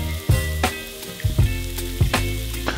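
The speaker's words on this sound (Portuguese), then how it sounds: "Na mesma frigideira, muito importante que é a mesma frigideira, a gente vai colocar a cebola, o salsão" Onion, celery and leek sauté in the same frying pan used for an entrecôte, a steady close sizzle broken by a few rhythmic scraping stirs.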